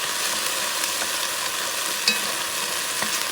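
Sofrito sizzles steadily in a hot pan for a Puerto Rican chicken gizzard stew, with a constant close frying hiss and soft scraping as it is stirred, alone with no talk.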